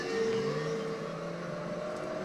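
A light-cycle motorcycle engine in the video game TRON: Evolution, a steady buzzing whine that falls slightly in pitch over a couple of seconds, fairly faint and continuous, with no talk.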